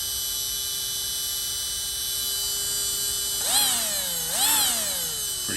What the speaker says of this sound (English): So now I'm just using my throttle trim and breaking in the motor